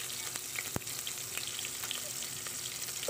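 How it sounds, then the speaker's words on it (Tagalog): Garlic, tomato and onion sauté in hot oil, a faint, steady sizzle with scattered small pops and crackles. "igisa natin ang mga sangkap, bawang, kamatis,"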